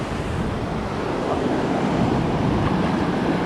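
Ocean waves break offshore where surfers are out, a low rumbling surf roar mixed with wind buffeting the microphone, loud and steady with no one speaking.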